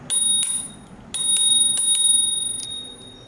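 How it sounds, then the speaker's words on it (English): A scooter bell rings close by in quick bright dings, two short bursts of repeated rings separated by a brief pause. "And Jordan has to ring the bell."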